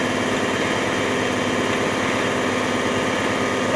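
An electric gate motor on an industrial automation training rig runs forward to open the gate, giving a steady, even motor hum with a buzzing engine-like tone throughout and no talk.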